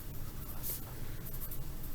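A pen scratching across paper while jotting an accounting homework entry, a quiet, continuous scribbling with small strokes, close up and with no talk.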